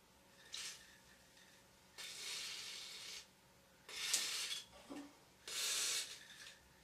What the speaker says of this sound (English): so I'm going to take some WD-40